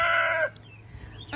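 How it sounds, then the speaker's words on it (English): A rooster in a backyard crows loud and close for about half a second, cut off abruptly, followed by quiet ambient noise and a faint later sound. "Look, here's the other rooster."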